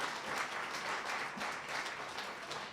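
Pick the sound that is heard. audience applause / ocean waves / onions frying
audience applause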